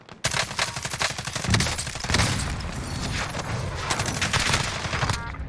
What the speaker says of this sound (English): I think I'm getting sniped from airport.